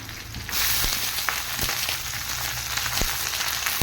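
Cabbage tipped into a pan of frying onions and curry leaves for Tamil cabbage poriyal sets off a loud, steady sizzle that swells after a quiet start, with a few light clinks and stirring sounds, no talk.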